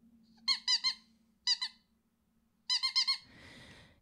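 A squeaky rubber chicken toy gives a run of sharp, high squeaks in uneven bursts of two and three with short pauses, then ends in a softer, breathy wheeze.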